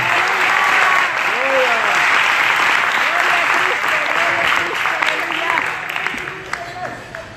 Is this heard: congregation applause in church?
yes